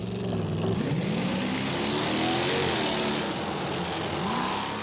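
Engine of a vintage military tank fitted with a Chevrolet truck body, a steady loud motor drone with rising and falling revs throughout, close by and with no talk.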